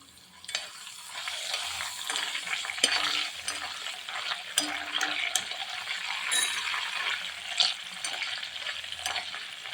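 Banana chips sizzle in hot oil with scattered sharp pops and crackles from sprinkled salt water, plus occasional metallic scraping from stirring; steady frying throughout.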